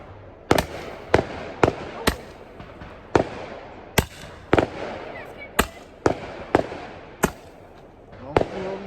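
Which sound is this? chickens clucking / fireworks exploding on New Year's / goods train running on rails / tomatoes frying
fireworks exploding on New Year's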